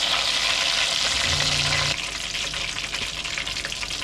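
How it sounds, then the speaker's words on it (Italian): Chicken breasts fry in a pan of oil at a parked camper on a Greek seaside, giving a continuous bubbling sizzle close up that drops a little in level partway through, with a brief low tone under it. "sta finendo di friggere"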